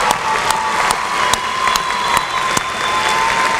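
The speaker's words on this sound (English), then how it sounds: "Let's give a round of applause to Magnus." Graduates and guests at a university commencement ceremony in Oklahoma applaud an honors graduate, steady crowd clapping with a few louder individual claps standing out over a continuous background wash.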